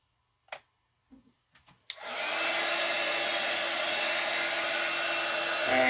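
A hair dryer dries a freshly painted desk drawer; a few light taps come first, then the dryer switches on and blows with a steady, loud, continuous whir to the end.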